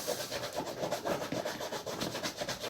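A cordovan leather shoe being dry-buffed with a cloth to remove excess cream: a soft, steady, rapid rubbing swish with a quick back-and-forth rhythm, close and faint.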